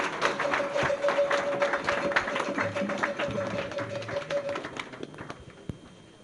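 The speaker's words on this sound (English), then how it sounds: "A round of applause, please, for Coach N. Henry." An audience applauds a football coach at a Ghana World Cup squad announcement event, with steady clapping across the room that fades toward the end.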